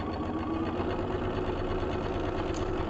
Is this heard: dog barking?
no